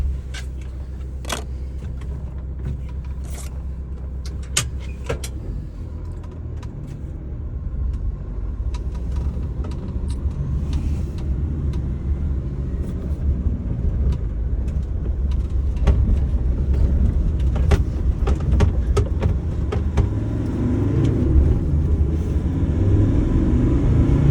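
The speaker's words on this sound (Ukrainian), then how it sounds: "Зараз зробимо пробний виїзд, невеличкий тест-драйв." A Mercedes Sprinter W906 van with a 2.7 OM647 diesel engine on a test drive produces a steady low engine rumble that gradually rises in loudness, with occasional clicks and knocks from the cabin.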